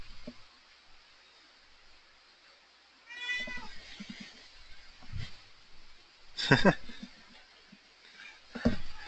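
A house cat meows several times, loud and close, in short drawn-out cries after a quiet start. A person talks between the calls.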